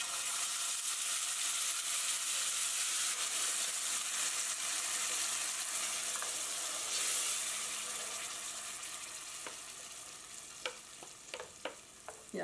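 Spinach hits hot oil with cumin seed and asafoetida and gives a steady, dense sizzle that slowly eases off, with a few sharp pops and clicks near the end.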